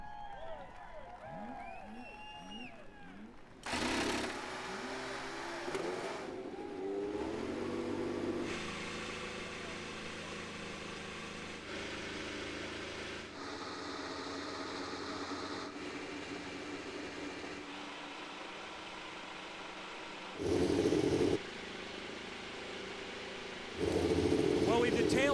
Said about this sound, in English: Drivers, start your corn-based E85 ethanol-powered engines.